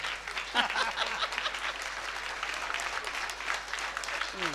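A crowd claps through a kirtan at a harinam saptah gathering in Sukni, dense continuous applause of many hands at a fairly even level, with faint voices in the background.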